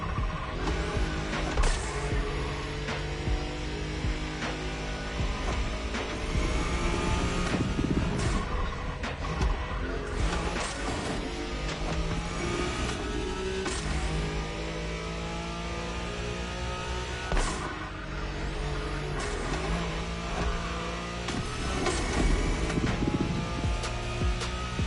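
A Nissan Skyline races in The Crew Motorfest, its engine revving hard and climbing through the gears with brief dips at each shift, loud and continuous with no voices.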